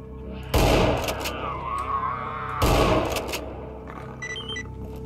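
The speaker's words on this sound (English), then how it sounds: "They might be firing from up." Two loud bursts of automatic gunfire ring out in Stalker Anomaly, each a sharp rattling volley that decays into reverberating echoes, then a faint electronic beeping follows.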